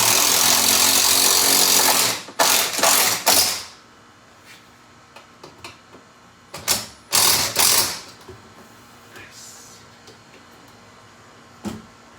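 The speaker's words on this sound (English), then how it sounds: "So once you get it in there, just drive it in slowly where it's snug." A power drill drives screws into a Kohler medicine cabinet during installation: a loud continuous whir for the first two seconds, then several short bursts of driving, with a final brief burst near the end.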